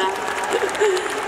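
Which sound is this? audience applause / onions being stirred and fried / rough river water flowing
audience applause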